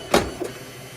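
An Alps printer takes in a decal sheet with a brief mechanical whir and a short clunk, then a softer second motor pass, close and alone.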